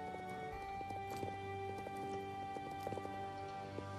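Horse hooves clip-clop in a steady rhythm in the video game Star Stable, moderately loud over layered game music with sustained tones.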